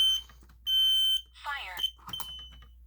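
A Simplex speaker strobe fire alarm sounds in loud, sustained electronic tones, two long steady blasts separated by a warbling sweep, with a brief voice-like fragment in between.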